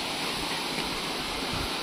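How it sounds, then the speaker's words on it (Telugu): Marmala Waterfalls in Vagamon, Kerala, running as a small stream of water after little rain, gives a brief, steady rushing hiss of falling water with no other sounds. "అక్కడ చిన్న వాటర్ ధార అది కనిపిస్తుంది కదా, అదే మర్మల వాటర్ ఫాల్"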